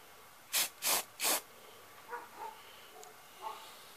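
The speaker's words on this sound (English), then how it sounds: "Right there, and start spraying." Three short, sharp bursts of aerosol spray paint hiss close by while painting a Hi-Point 4095TS carbine, followed by faint quiet clicks and rustles.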